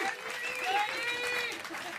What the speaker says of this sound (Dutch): Dus voor eens in de zoveel tijd mag je best wel even klappen voor onze wannabe politici. Applaus, dankjewel.